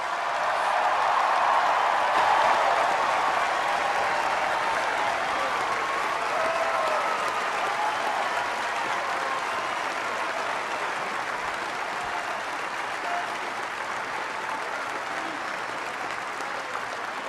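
A crowd gives sustained applause at a Indiana basketball championship ring ceremony, steady dense clapping from many hands that stays loud for the whole stretch and fades only slightly toward the end.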